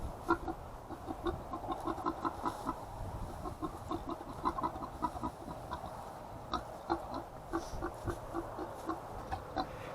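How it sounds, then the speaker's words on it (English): Chickens cluck steadily in a hay-filled pen among farm animals, a continuous rhythmic clucking at moderate distance over a noisy background. "there's a chicken in there that has 2 eggs"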